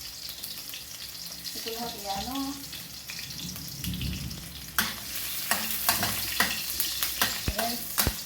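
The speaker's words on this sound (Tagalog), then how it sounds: "igigisa na ko na ang aking sibuyas at bawang." Onion and garlic sautéing in a pan, a bright, close sizzle with clattering spatula scrapes and stirring taps growing busier toward the end, while someone speaks briefly over the frying early on.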